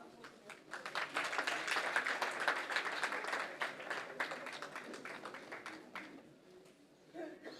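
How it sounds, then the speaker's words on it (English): A festival audience at a youth speech competition ceremony gives a long round of applause, steady dense clapping that peaks early and slowly thins out, faint and somewhat distant, with a brief louder patter at the end. "Please give a huge round of applause, everyone."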